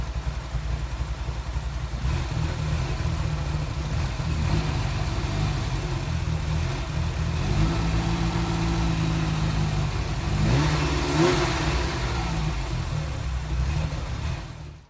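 A Ferrari 308 engine runs steadily at idle with a low, even drone, lifting briefly in a couple of light revs before settling again; no voices.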